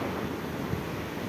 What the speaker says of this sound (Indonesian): Angin lumayan kencang.